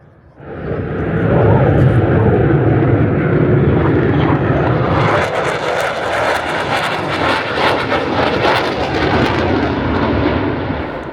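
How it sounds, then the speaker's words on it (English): An F-15E Strike Eagle twin-engine jet tears past, a sudden loud, sustained roar that swells in within the first second and holds with a rushing, crackling edge, a heavy thunder lingering near throughout. "the air tears open, twin engines unleashing pure thunder"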